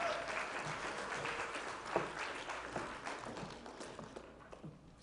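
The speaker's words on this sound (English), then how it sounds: "let's give her another round of applause" Audience applause at a Unity of Boulder gathering following a poetry reading, steady broadband clapping from a room of people for about five seconds, fading slightly toward the end.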